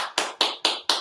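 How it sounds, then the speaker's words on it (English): Applause from a single participant in a virtual rhythm circle: four sharp claps at an even pace, roughly one every quarter second, close and fairly loud with no talking. "Applause coming in from Martine."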